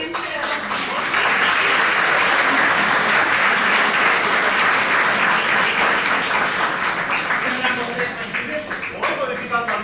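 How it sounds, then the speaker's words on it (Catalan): Sustained audience applause at a Catalan stage or TV show, loud, dense clapping that swells in after the first second and holds steady, easing slightly near the end, with a few voices faintly audible in the crowd. "Un aplaudiment."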